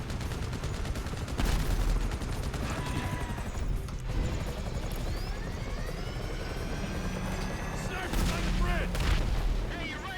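Gunfire from shooters in a dark, wet GTA 5 area, with bursts of shots over a steady helicopter-like rotor drone, loudest in short flurries near the start and end.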